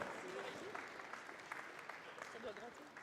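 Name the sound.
audience applause at awards ceremony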